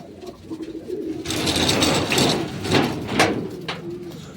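Pigeons coo softly in their coop, low murmuring calls repeating over rustling and faint clattering, close by.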